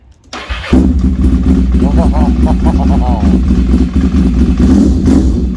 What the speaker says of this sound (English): you do not start a Ducati, you bring it to life